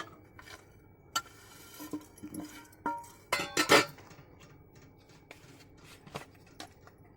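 Chopped onion, chilli and drumstick leaves are stirred together in a bowl for adai batter, giving close, irregular clinks and scrapes that bunch into a dense clatter in the middle before easing off.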